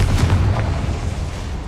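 A Confringo fire spell bursts in Hogwarts Legacy, a deep, rumbling explosion that hits hard at once and rolls off over under two seconds, with no talking.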